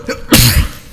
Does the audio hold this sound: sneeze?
yes